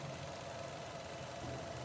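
A 2020 Baleno automatic's petrol four-cylinder engine idles smoothly and steadily, a close, even hum with a faint whine and no talking over it, holding unchanged throughout.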